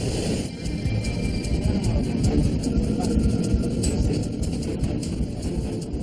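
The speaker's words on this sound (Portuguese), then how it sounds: "O avião logo tem potência suficiente para acelerar pela pista." Airliner engines roaring as the jet accelerates down a cold runway for takeoff, a loud steady rumble that holds throughout, with voices talking over it.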